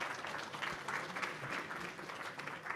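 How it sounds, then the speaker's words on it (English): Continuous applause from a conference audience for a presenter, a dense steady patter of many hands clapping at moderate volume throughout. "Let's give him a hand of applause."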